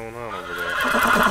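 Horses whinny and neigh in a Game of Thrones video game, a strong rising whinny over a steady harmonic tone, close and loud, with a voice briefly present.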